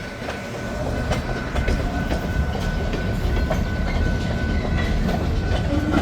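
A freight train led by an SD9 locomotive heads north from the CN yard in Green Bay, rumbling loudly and steadily close by with rhythmic wheel clatter over the rails.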